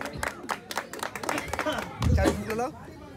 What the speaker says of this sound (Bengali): সবাই মিলে একটু করে হাততালি দেবেন